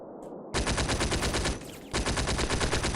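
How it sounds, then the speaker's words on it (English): Machine gun fire from the wartime video game Combat Mission: Afrika Korps, loud continuous rapid bursts that break off briefly and then resume, heavy and close, with no voices over it. "we have some machine guns, like brand guns, so we're able to bring some heavy cover fire"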